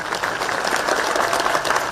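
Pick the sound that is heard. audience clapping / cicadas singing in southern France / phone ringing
audience clapping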